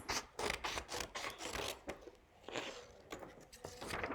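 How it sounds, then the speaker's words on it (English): Repeated crisp snipping and rasping of scissors through paper, close and fairly quiet, in irregular bursts with faint background voices. "I'm cutting out around the dashed lines"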